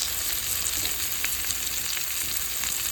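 Chopped potatoes, carrots, onions and red and orange peppers fry for a lamb stew, giving a loud, steady, continuous sizzle close up without a break.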